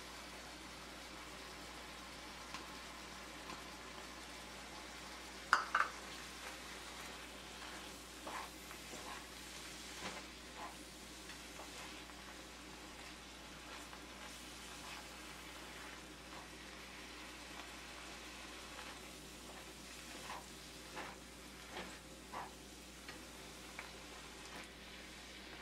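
Onions frying in a pan for Haitian patties, a steady soft sizzle with occasional stirring scrapes and a couple of sharper clinks, fairly quiet and with no talking.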